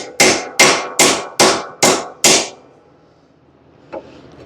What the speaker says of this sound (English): You need a hammer.